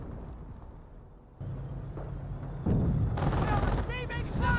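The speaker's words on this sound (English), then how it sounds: "Sniper firing some shots here on the Panzer Grenadiers." A sniper firing shots at Panzer Grenadiers in Company of Heroes, heard as cracking gunfire amid a busy battle din, with distant rumbling explosions and a voice speaking over it.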